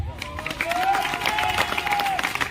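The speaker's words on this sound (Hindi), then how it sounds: "देखूंगा कितनी ताली हो जाएगी।" An audience at a network marketing business meeting breaks into sustained applause, a dense crowd clapping steadily with a few cheers while a voice carries over it.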